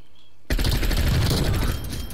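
Sustained automatic gunfire in the Call of Duty: Cold War multiplayer, a dense burst that starts abruptly after a brief silence and rattles on loudly for the rest of the clip with no talk.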